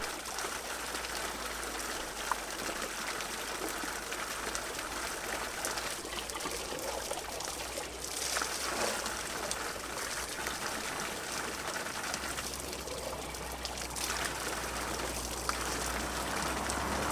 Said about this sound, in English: people refill their water bottles at these little sources, so that's what I'm going to do right now